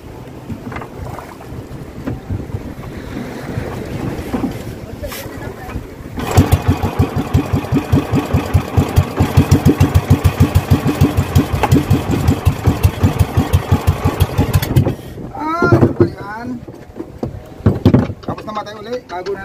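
An outboard engine on a small boat at a sandbar off Infanta, Quezon, first rough and sputtering, then a long run of rapid rhythmic chugging before it cuts out, heard close with wind buffeting the microphone and voices talking over it.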